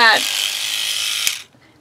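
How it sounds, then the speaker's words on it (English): A Colgate 360 electric toothbrush buffs polymer clay with a steady, close mechanical whir that runs evenly, then cuts off abruptly near the end. "I've got a different toothbrush, and it's a Colgate 360"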